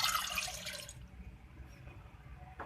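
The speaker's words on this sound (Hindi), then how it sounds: "इसमें डालूंगी मैं 1 गिलास पानी" A glass of water poured into a pan on the stove, a brief close splashing rush that cuts off after about a second, leaving quiet kitchen ambience and a small clink.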